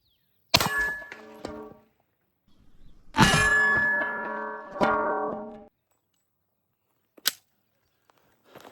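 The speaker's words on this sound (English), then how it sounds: "Next up is the 9mm from the Glock 35, which is a 40 cal, but we're shooting 9mm." Two loud, sharp 9mm shots from a Glock 35 striking body armor, each followed by a ringing metallic decay, then a faint short crack later on; nobody speaks.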